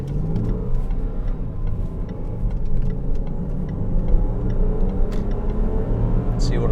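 A 2015 Range Rover full-size SUV with about 100,000 miles accelerates, its engine giving a steady low rumble and rising drone heard from inside the cabin, loud and continuous throughout.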